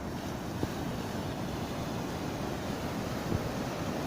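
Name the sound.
ocean waves on the Gulf shore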